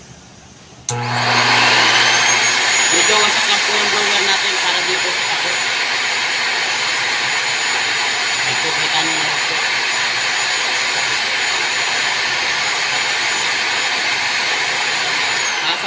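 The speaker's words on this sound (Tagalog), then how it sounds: "wag po natin lalaksan yung volume ng blower natin" A pet dryer blower for drying a dog switches on abruptly and runs with a steady, loud, roaring whoosh that continues without pause.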